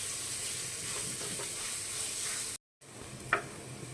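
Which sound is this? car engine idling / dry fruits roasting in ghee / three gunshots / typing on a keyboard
dry fruits roasting in ghee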